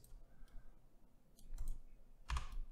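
A computer mouse clicks a couple of times in Blender, short sharp taps close by with faint room hush between them.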